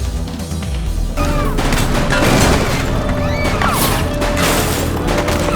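Gunfire rings out in the police video game The Precinct, a dense run of booms, crashes and rapid shots. It stays loud and layered over a continuous action soundtrack for the whole stretch.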